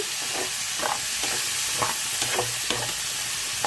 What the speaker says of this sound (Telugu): ఇప్పుడు ఈ ఉల్లిపాయ ముక్కలు పచ్చిమిర్చి వేసేసుకుందాము ఇవి బాగా వేగిపోవాలి